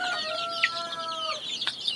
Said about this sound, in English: I see an Indian chicken over there.